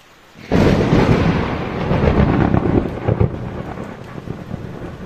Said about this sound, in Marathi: ही आपली जी रूम आहे ना वरची पत्र्याची, त्याच्यात इतका जोराचा आवाज येतो पाऊस चालू झाल्यावर